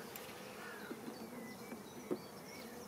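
Honeybees buzzing around an open hive during a spring apiary inspection, a quiet continuous drone with occasional louder passes and light handling knocks.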